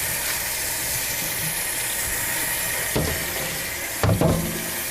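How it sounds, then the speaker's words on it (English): Hot soapy water runs into a sink in a steady close hiss, with a couple of brief splashes and clatters as something is washed, no voices. "And now we're going to wash with hot soapy water."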